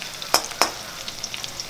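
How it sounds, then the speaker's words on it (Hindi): Potato pieces fry in oil for poha, a soft sizzle broken by two sharp scraping stirs early on and lighter clicks afterward. "अब हम थोड़ी देर इस पोटैटो को थोड़ी देर तेल में फ्राई होने देंगे।"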